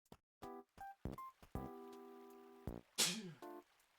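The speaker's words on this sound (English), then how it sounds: "And a sneeze." A brief, breathy sneeze in Animal Crossing: Wild World bursts out near the end, amid a run of soft, pitched game chimes and blips, all quiet.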